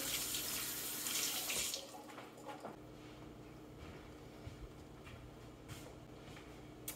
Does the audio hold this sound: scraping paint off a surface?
no